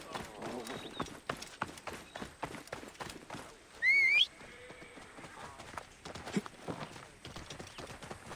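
Camel hooves thud and clop at a steady, rhythmic pace during a ride in Assassin's Creed Origins, with a brief whistling animal cry in the middle and sparse ambient game sound around it.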